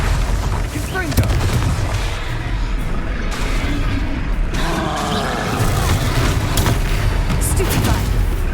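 Repeated fire-spell blasts in the game Hogwarts Legacy, a dense run of booming, crackling bursts under continuous game sound and a speaking voice.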